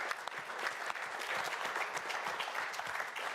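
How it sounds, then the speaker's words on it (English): A round of steady applause from conference attendees in Hamburg, moderately distant and even, with no talking over it. "Please join me in a round of applause to thank all our speakers"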